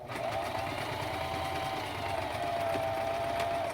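A sewing machine runs steadily, stitching thread through fabric for face masks. Its motor hums with a fast, even whirr of needle strokes, close and continuous throughout with no talking.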